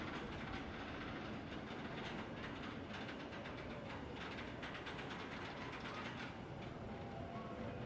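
The Batman roller coaster train runs along its track at Six Flags Great Adventure, a steady, faint rumble with rhythmic clattering heard from a distance throughout.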